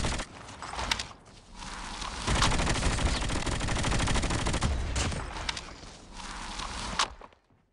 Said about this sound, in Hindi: ये देखो आगे से फायर आ रहा है